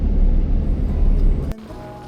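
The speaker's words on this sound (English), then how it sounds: "You can hear that traffic, huh?" A steady low roar of traffic rumbles through a wet old tunnel, loud and continuous, then drops away abruptly near the end, leaving only faint ambience.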